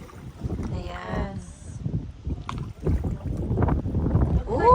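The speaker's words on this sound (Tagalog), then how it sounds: "Lakas ng hangin." Strong gusts buffet a canoe out on the Bow River in Banff, Alberta, rising and falling in bursts, mixed with water movement and people talking.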